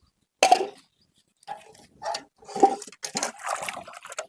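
Water spills out of a bucket at a farm well in a series of splashy, uneven bursts, close and moderately loud, with short gaps between pours.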